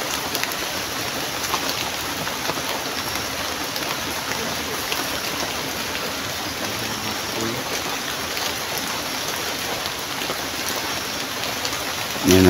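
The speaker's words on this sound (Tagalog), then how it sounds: "Sobrang lakas talaga ng ulan dito." Heavy rain pours down steadily outdoors at night, a dense, loud, unbroken hiss of drops on surfaces lasting throughout with no talk.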